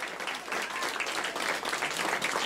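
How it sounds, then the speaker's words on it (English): A room full of mission team members at the Jet Propulsion Laboratory bursts into sustained applause after signal confirmation from the Europa Clipper spacecraft, dense clapping throughout with faint voices mixed in. "In the room there at the Jet Propulsion Laboratory erupting in applause."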